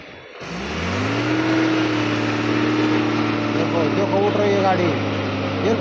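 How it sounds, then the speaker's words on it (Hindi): A Tata truck's diesel engine revs and holds a steady, loud drone as the truck pulls away, close by and continuous, with a brief rise at the start. "ये पावर है टाटा की, बहुत ही सही तरीके से उठाई"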